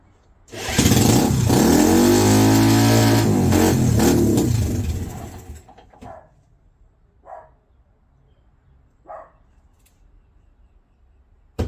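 A trike engine running on old brown gasoline starts and revs loudly for several seconds, then cuts out, leaving a few faint knocks and brief bursts afterward.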